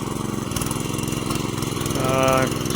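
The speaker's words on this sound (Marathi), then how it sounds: "छोटा ट्रॅक्टर ब्रीडर आणि आता नांगरकी करून घेत आहे." A small tractor engine runs steadily while plowing a muddy paddy field, a loud continuous chugging drone with rapid regular pulsing that swells briefly near the end, close and unbroken throughout.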